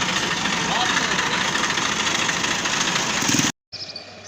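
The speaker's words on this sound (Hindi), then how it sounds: "हवा वाली मशीन, हाँ, इस टायर की हवा कम है।" An air compressor at a roadside shop fills a low tractor tyre, running as a loud, steady mechanical drone that cuts out abruptly near the end before a short, quieter resumption.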